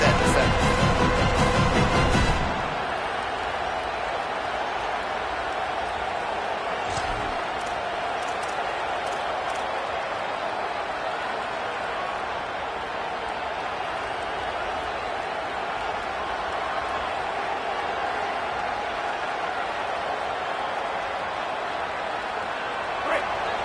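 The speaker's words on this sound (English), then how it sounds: "Here comes this home crowd as the defense tries to get off the field on third down." Home stadium crowd in a college football video game against Indiana roars steadily as the defense faces third down. The noise is dense and sustained, louder for the first couple of seconds, then holding at a constant wash under commentary.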